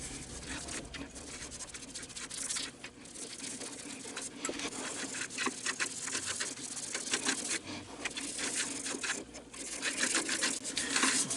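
Wax being rubbed in small circular motions into a cracked wood-turned piece, a steady close scratchy rubbing and rasping that continues without pause for several seconds, with no talking.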